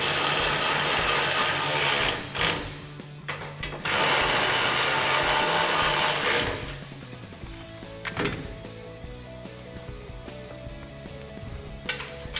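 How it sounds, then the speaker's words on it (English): A ratchet tightens the bolts on a nerf side step bar fitted to a Toyota Tacoma. Close mechanical whirring and clicking comes in long loud runs, then trails into lighter intermittent ratcheting and tool clinks. "go ahead and tighten down these top bolts just to make it a little easier to line up the bottom bolts"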